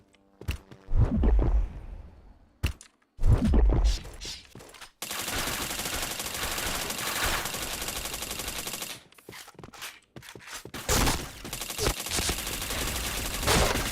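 MP5 submachine gun fire in the shooter game Point Blank: two short bursts, then long sustained automatic volleys, loud and close, with brief pauses between them and no talk.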